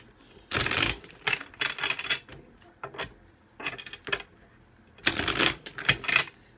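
Cards are shuffled close by in several quick, clattering riffle bursts, separated by short pauses and a longer quiet gap in the middle.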